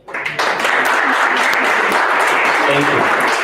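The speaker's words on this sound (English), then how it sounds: "Have we given that a round of applause?" An audience at a provincial fire awareness day event breaks into sustained applause, a dense, steady wash of clapping from a crowd that starts abruptly and continues throughout, with a voice briefly audible at the start.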